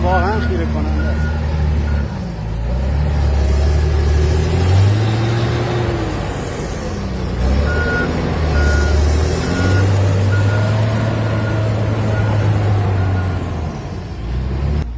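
A liquid manure spreader truck works near a dairy farm, its loud diesel engine droning steadily while repeated reversing beeps sound throughout, with occasional air-brake hiss and some voices mixed in.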